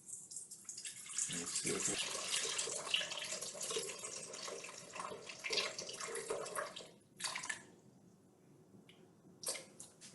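Tap water runs and splashes into a bowl set on a kitchen scale for bagel dough, a steady hissing stream lasting several seconds, then brief clinks and trickles, with a voice speaking faintly over it.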